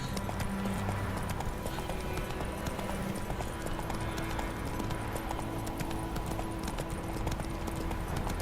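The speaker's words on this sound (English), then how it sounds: "His horse appears to be a little faster than mine, at least in a trot." Horse hooves trotting in the video game The Witcher 3, a steady rhythmic clip-clop running throughout at moderate loudness over a continuous ambient background.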